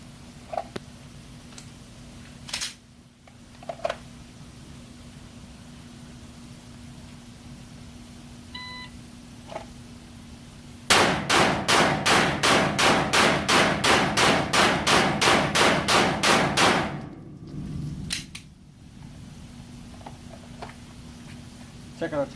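A Glock 17 pistol empties a full magazine at a shooting range from ten yards, giving seventeen loud, evenly spaced shots at roughly half-second intervals, preceded by a faint electronic beep.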